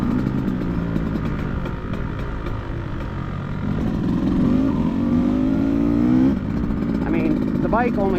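A new 2024 Beta Xtrainer dirt bike engine buzzes and revs up and down, its pitch rising as the ride goes on, loud and close with outdoor background noise.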